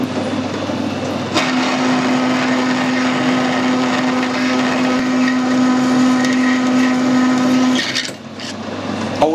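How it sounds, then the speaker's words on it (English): A 7/8 reamer finishing the bore of a clutch slave cylinder on a running machine, a loud steady motor whine with a constant tonal hum that holds for several seconds and then drops away as the machine stops. "Now I have got a 7/8 reamer, so we'll be able to ream the finished size of the bore"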